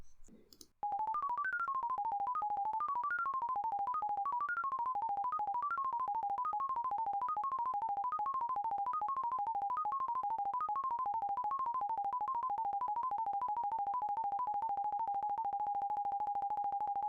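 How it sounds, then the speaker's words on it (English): Bubble sort sonification running in Swift in the iOS simulator plays a rapid stream of electronic beeps, pitches wobbling up and down steadily for about sixteen seconds before settling on a single sustained tone, loud and alone after a brief initial click. "that's the sound of the bubble sort"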